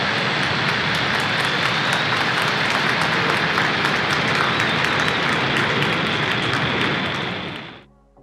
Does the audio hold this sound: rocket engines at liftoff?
yes